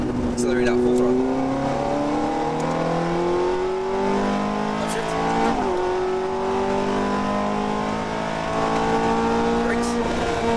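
A race car engine screams at full throttle, pitch climbing steadily through a long pull, with a brief dip as it shifts, loud and close.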